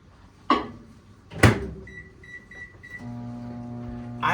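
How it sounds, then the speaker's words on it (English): A microwave oven is closed with a couple of sharp door thuds and keypad beeps, then begins running with a steady, even hum, heard nearby while preparing iced matcha. "Next, you're gonna put it in the microwave."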